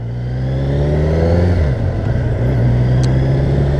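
A 2020 Kawasaki Z900 ABS motorcycle engine pulls up a hill, a loud steady close drone that rises in pitch, dips briefly, then climbs again with no talking.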